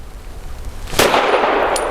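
A single sharp report from a Tisas PX-9 Gen 3 pistol firing 165 grain Ammo Incorporated Stealth, cracking at the one-second mark with a bright ringing decay that lingers through the rest of the clip, preceded by quiet outdoor range ambience.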